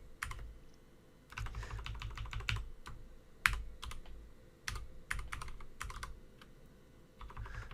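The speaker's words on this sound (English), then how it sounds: "It's really hard to type when I've got this microphone right in front of me" Fingers type on a computer keyboard while writing an Arduino sketch, the keys clacking in quick bursts separated by short pauses, close and clear with no voice.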